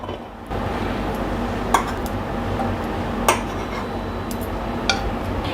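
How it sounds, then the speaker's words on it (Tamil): Steamed momos being lifted out one by one and set onto a plate, with a few light clinks of a utensil spaced out over a steady background hum, no voices. "இந்த மோமோஸ் ஒவ்வொன்றும் எடுத்து தட்டில் வச்சுக்கலாம்."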